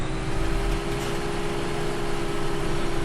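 Tractor engine in Farming Simulator 17, a new John Deere machine, droning steadily and loudly at a constant pitch with a low rumble throughout, no talk over it.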